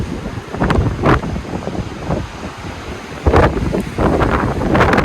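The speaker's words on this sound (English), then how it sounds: "And the Atlantic Ocean." Atlantic Ocean surf at Topsail Beach, North Carolina, heard from a fourth-floor condo balcony: a steady wash of waves under strong gusting wind buffeting the microphone, loud and continuous with no talk.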